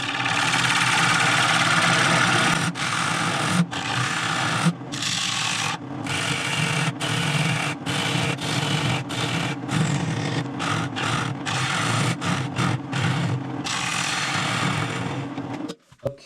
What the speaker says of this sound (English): you gotta be careful with these cuts towards the center. Just let the bowl gouge do the work.